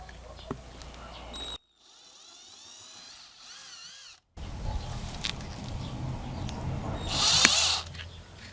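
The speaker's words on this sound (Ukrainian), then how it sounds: "Кернем і сверднемо отвори свердлом 2 мм." A drill with a 2 mm bit whines in a high, wavering pitch while drilling holes in stainless steel, between stretches of workshop noise, with a sharp hiss near the end.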